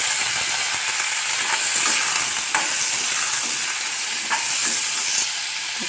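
Finely cut potato and bitter gourd stir-frying in a pan, giving a loud continuous sizzle with occasional faint scrapes of a spatula through the whole stretch, no voices over it.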